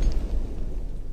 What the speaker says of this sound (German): Mucho Welt wird noch ein bisschen zerstört von mir, das zeige ich dir aber nicht alles. Explodiere.